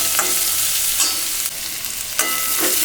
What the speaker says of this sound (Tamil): வெங்காயமெல்லாம் வதக்கி வந்துச்சுங்க.